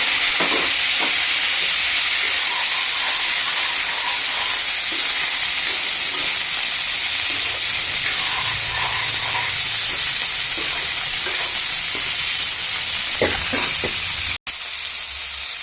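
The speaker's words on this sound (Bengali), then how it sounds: "আর এই তেলেই আমি এই ফুলকপিটাও ভাজা করে নেব।" Cauliflower fries in oil in a pan, giving a loud, continuous hissing sizzle with faint spatters and stirring bumps and no talking, until a brief cut near the end.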